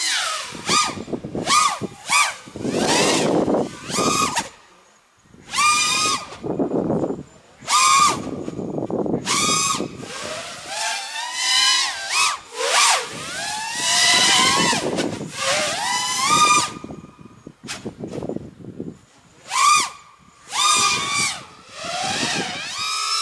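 A drone flown line of sight roars with loud, high-pitched motor whine in repeated bursts that rise and fall in pitch as the throttle changes, close and dominant throughout.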